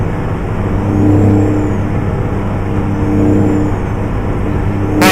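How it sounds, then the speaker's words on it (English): A loud truck engine in American Truck Simulator drones steadily at cruising speed, a deep constant rumble that swells slightly twice, with no voices and a brief burst of noise at the very end. "I kind of accidentally did pick a louder engine for this run."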